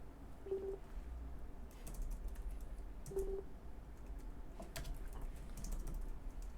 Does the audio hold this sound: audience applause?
no